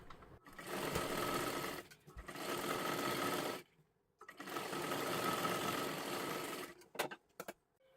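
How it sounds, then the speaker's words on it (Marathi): Electric sewing machine topstitching close along the fabric edge of a sleeve, running in two long steady bursts with a short stop between them, then a few brief clicks and knocks at the end. "आता इकडच्या बाजूला घेऊन एकदम कडेकडेला ह्या कापडावरती दाबटीप टाकून घ्यायची आहे"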